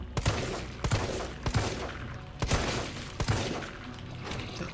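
Bursts of gunfire from the video game Resident Evil 3 Remake, a handful of sharp shots spaced irregularly over a low rumbling game backdrop, fairly quiet overall.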